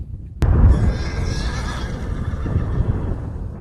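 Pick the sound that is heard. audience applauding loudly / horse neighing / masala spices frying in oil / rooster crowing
horse neighing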